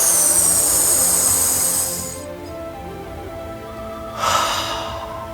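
Slow, steady exhalation through the mouth with lips stretched into a broad smile during meditation breathing: a long, airy, close breath that trails off, then a second breath begins after a short pause.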